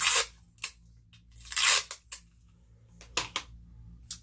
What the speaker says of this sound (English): So I'm going to put on some tape.